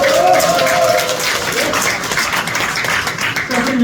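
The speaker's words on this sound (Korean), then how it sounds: "박수 한번 더 쳐보세요" Audience clapping at a health lecture on arthritis, a dense patter of hands that continues for several seconds while a voice speaks over it at the start and end.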